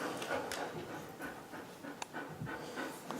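Dog named Keone panting rapidly while climbing stairs, quick rhythmic breaths close by with a few soft scuffs and small clicks, faint overall.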